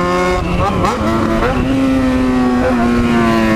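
Yamaha XJ6 motorcycle engine revving hard for a wheelie, loud and close, pitch climbing and dipping through several throttle pulls before settling into a sustained high drone.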